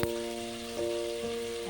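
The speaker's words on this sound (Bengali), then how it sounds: "খুলে আমি মশলার সাথে আমি একটু কষিয়ে নেব" Onion petals frying with spices in a pan for chilli chicken, a soft continuous sizzle with a brief scrape or two.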